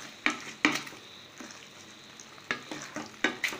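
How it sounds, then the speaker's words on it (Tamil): Garlic chicken being stirred in a pan, a quiet background sizzle broken by repeated sharp scraping taps of a spoon against the pan in irregular bursts. "இப்போ நீங்க வந்து இத அப்படியே லைட்டா கிளறி விட்டுட்டே இருங்க"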